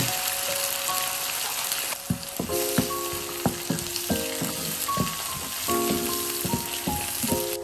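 Onion paste with ginger garlic paste frying in hot oil, a steady close sizzle broken by sharp clinks and scrapes of a spoon stirring against the pan, with no one speaking.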